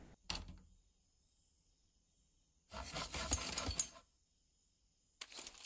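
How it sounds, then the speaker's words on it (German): A saw cutting through a tree log in the survival video game Mist Survival, with two short bursts of rasping strokes, the second longer, separated by near silence. "Mit der Säge."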